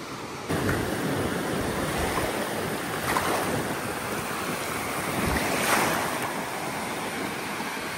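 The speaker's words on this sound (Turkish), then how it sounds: "Bu dalga sizi korkutmasın." Ocean waves crash and wash steadily onto Boracay beach, with a constant broad roar of surf, gusting wind buffeting the microphone, and a couple of louder surges, and no talking.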